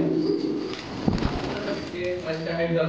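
Fancy pigeons at a large pigeon farm, including king, pouter and white breeds, coo in low repeated rolls close by, with a voice talking over them.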